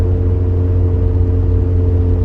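Mazda FB RX-7 rotary with a Racing Beat exhaust under part throttle in third or fourth gear, giving a steady, loud, even engine drone with a low rumble, close and continuous with no voices.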